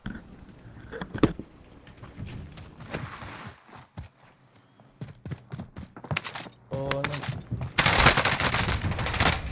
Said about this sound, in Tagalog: Lakas na baril pa.